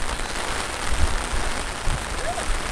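Steady rain at the airport in David, Panama, a dense even patter of drops on surfaces, close and continuous, with faint low thumps underneath.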